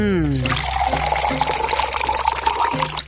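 Milk whisked by hand for coffee gives a steady, close liquid swishing and sloshing, with a brief voice at the very start before the whisking continues alone.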